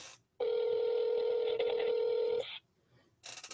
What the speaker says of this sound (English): Let's see if he answers the phone.